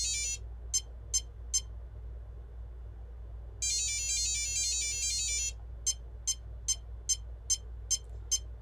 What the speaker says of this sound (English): to put it into calibration mode, you hold down the throttle, turn it on, wait for all the beeping